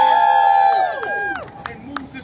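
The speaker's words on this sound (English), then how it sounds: "A round of applause" At a New York City rally over banning landlord criminal background checks, a loud sustained whoop from the crowd gives way to scattered, thinning claps that fade within a couple of seconds.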